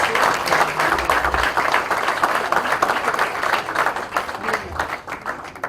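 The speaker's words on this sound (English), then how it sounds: "ladies and gentlemen, big round of applause" An audience applauding at an institute inauguration ceremony, dense sustained clapping from a large crowd that carries on evenly throughout, slightly fluctuating in intensity, with no talking over it.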